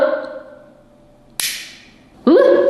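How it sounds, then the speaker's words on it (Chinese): A toy mini gatling gun from a capsule machine fires rice-sized bullets with sharp snapping pops, one near the middle and another at the end, each followed by a brief rattle, close by against a quiet room. "这里放一个人形的靶子，装好子弹，准备发射。"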